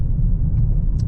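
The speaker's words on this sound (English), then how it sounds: "You can hear the engine sort of burbling away in the background" Maserati Grecale Trofeo luxury performance SUV engine burbling steadily while driving, a low continuous rumble filling the cabin with no voices over it.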